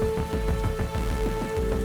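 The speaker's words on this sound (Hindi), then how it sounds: "बाहर मूसलाधार बारिश हो रही है" Heavy downpour rain pours outside a roadside dhaba, a loud, dense, steady patter with no talk.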